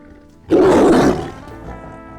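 A tiger lets out one loud, sustained roar that swells suddenly and then trails off into a low rumble, heard alone and close.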